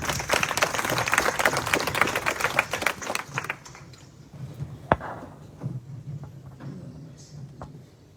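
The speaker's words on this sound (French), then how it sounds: "Sous vos applaudissements, s'il vous plaît." An audience at an education awards ceremony applauds with dense, crowded clapping that fades after a few seconds into scattered claps and room noise.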